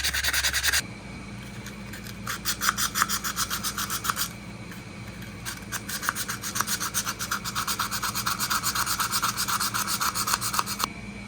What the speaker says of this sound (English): I'm just going to try to use some sandpaper. It's 120 grit.